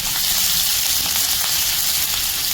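Garlic, ginger and green chili fry in a pan, giving a steady, close hiss of sizzling oil with no talk.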